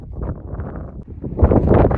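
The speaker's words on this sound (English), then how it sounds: "This might suck because of how windy it is" Strong wind buffets the microphone with low, rumbling gusts that swell louder toward the end, with no voices, in the Gila National Forest.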